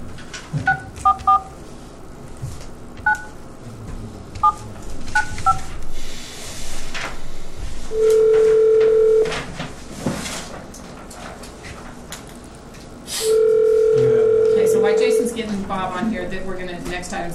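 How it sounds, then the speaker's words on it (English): Telephone keypad dialing, with clusters of short touch-tone beeps, then two longer steady ring or dial tones separated by a pause, set in a quiet meeting room with faint background voices. "I'm going to get Bob Pender on the phone."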